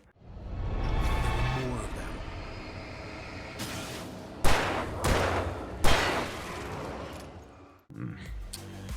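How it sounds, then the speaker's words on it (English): Weapon fire in the video game Alan Wake Remastered, including a pistol: a couple of sharp, loud shot bursts punctuate a rumbling, rolling game soundscape. "the audio for weapons didn't get a makeover as part of the remaster"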